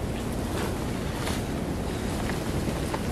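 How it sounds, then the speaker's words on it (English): Heavy wind roaring steadily against a frozen tent during an overnight arctic cold snap around -31 with snowfall, a loud continuous rush with faint gusty swells and no voices. "this wind."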